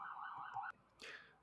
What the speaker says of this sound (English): there was some kind of a police car running behind the window